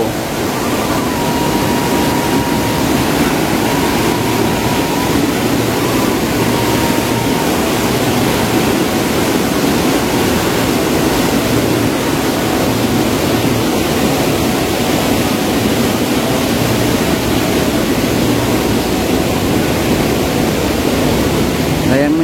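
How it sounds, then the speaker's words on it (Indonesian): A strong river current swollen by heavy rain in Sumedang rushes past, a loud, constant broadband roar of churning water close by, with a voice faintly talking beneath it. "Jadi untuk arusnya sendiri ini sangat deras."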